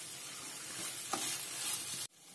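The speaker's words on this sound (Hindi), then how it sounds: "अब डालेंगे हम soya sauce, chilli sauce, tomato ketchup, और एक बार इनको अच्छी तरह से हम मिक्स कर लेते हैं।" Veg chowmein stir-fried in a hot pan with soy sauce, chili sauce and tomato ketchup, giving a steady close sizzle with stirring scrapes that cuts off abruptly near the end.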